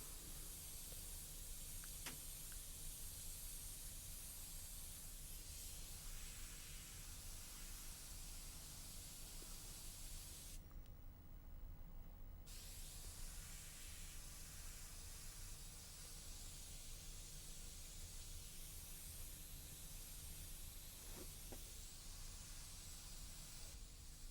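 An airbrush spraying paint at 40 PSI for freehand shadows in custom painting gives a steady, continuous hiss throughout, close and even, with a short dip partway through.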